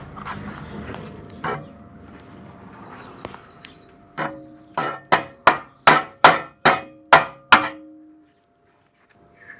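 Hammer blows on a rusty Jaguar XK8 suspension mount during welding repair work: a few scattered knocks, then a rapid run of about eight sharp, ringing metallic strikes, close and loud, ending in silence.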